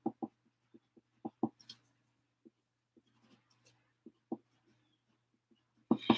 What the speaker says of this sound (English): So let me write down Nikki.